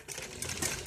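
A sewing machine runs steadily, stitching a seam on a ladies' net-cloth suit, a close, continuous mechanical chatter with no talking.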